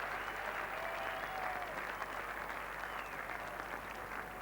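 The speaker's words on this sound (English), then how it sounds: "Applause round the ground as well." Applause from a cricket crowd spreads around the ground at a 1987 England v Pakistan Test match at Edgbaston, steady and fairly distant, lasting throughout at a constant level.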